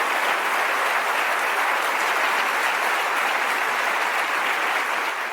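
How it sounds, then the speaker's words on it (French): A church congregation at a Bible study in Jacksonville, Florida, applauding a visiting brother, a steady, even roar of many hands clapping that holds at full strength throughout. "Un applaudissement pour notre frère."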